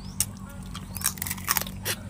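Fresh blue crab in a spicy Thai salad is bitten and chewed up close, with several sharp crunchy cracks and wet chewing sounds over a low background hum.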